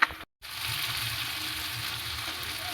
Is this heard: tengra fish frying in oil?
yes